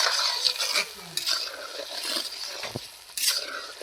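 A spoon stirs jackfruit kofta curry after garam masala and ghee are added, making steady close scraping and stirring against the pan with soft clinks and a faint sizzle, the rhythm broken by a few sharper knocks.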